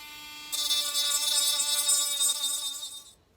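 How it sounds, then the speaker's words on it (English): A power sander works a plastic Christmas decoration, starting abruptly with a loud, close, high-pitched gritty whir over a steady electric hum and running for about two and a half seconds before cutting off. "Right now we're just gonna sand this down and get it prepped for welding the new ones on."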